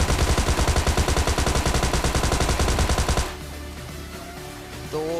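Automatic gunfire in a PUBG Mobile Lite gunfight: a loud, steady burst of rapid rhythmic shots runs for about three seconds, then cuts off, leaving quieter game sounds.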